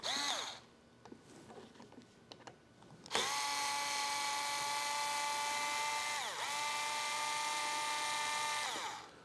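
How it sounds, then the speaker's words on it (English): A power drill backs out Torx T20 screws from a Harley-Davidson handlebar grip, a steady close, loud whine running several seconds with two brief dips in pitch as the load changes, preceded by a few faint clicks. "There's a screw here and a screw here, and these are both Torx T20s. We're going to pull those out real quick."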